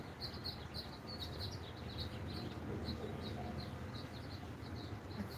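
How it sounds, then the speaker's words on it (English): Small birds chirp and twitter steadily in the distance, a light continuous chorus of high calls over a low rumbling background. "I hear the birds, of course."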